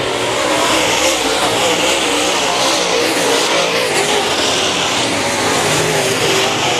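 Late model race cars roar past at Raceway Park during a heat race, a loud continuous engine drone with rising and falling revs throughout.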